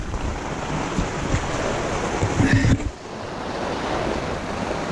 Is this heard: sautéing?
no